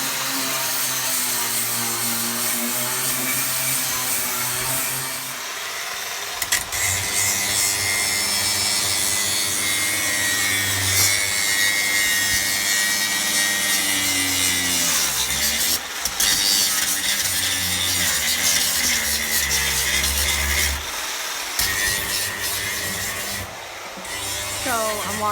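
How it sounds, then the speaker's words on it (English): A drill boring into metal rivets on the walls of a school bus being stripped, a loud continuous grinding whine that shifts in pitch as the bit bites and slips, with a voice faintly underneath. "trying to drill holes in the rivets so we can pull them out"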